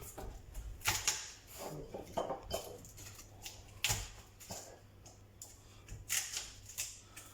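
Garlic cloves being crushed and peeled by hand while making a gratin dauphinois, a quiet series of sharp cracks, snaps and papery rustles at irregular intervals, close up with no talking.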